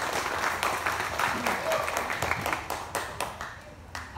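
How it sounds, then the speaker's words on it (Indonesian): A workshop crowd at a hair trend event claps for a guest haircutting champion, a continuous patter of applause with scattered sharper claps, slowly thinning out by the end. "Mistia, ditepuk tangan"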